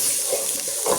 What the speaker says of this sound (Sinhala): ඊට පස්සේ අපි තෙල් ටික රත් වුණාට පස්සේ මුලින්ම සුදු ලූණු ටික එක් කර ගන්නවා.